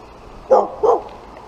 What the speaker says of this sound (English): Come on, dogs. Don't bark at me.